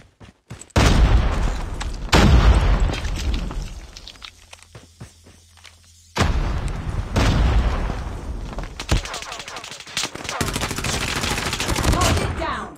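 Loud blasts and gunfire in a Call of Duty Mobile Search and Destroy match, with a heavy frag grenade explosion among repeated bursts of shooting and footsteps, each boom ringing out with a broad, sustained roar.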